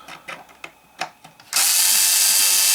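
A power drill unscrews plastic parts from a Heng Long Leopard 2 A6 RC tank. A few faint clicks and handling noises come first, then the drill whirs loudly and steadily at close range.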